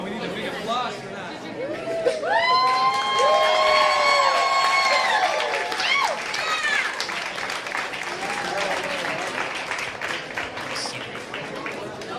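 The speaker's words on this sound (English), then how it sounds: "Come on, we need a big applause for that." Wedding guests applaud and cheer loudly and steadily for about twelve seconds, with whoops and shouts rising over the clapping and a crowd murmuring throughout.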